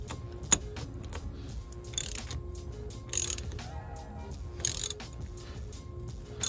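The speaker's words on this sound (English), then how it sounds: "I'll put a last minute tighten on them." Coolant hose clamps on a Cummins ISX 15 engine are tightened with a ratchet, giving several short bursts of rapid clicking separated by quieter pauses, close and clear.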